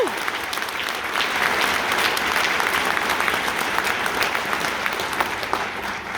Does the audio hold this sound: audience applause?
yes